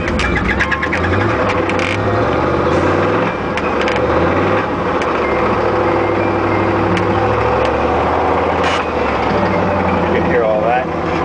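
A gasoline Isuzu NPR 16 ft box truck whose engine has a motor problem, running loud and close with a steady rumbling drone that swells slightly as the throttle is raised, without clear speech over it.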